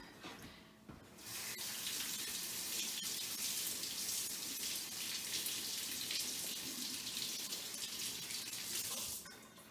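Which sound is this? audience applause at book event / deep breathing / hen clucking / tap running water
tap running water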